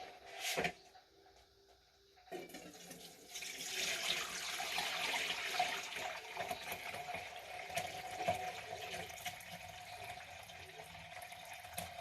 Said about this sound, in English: I'm going to go ahead and get most of the liquid poured off first.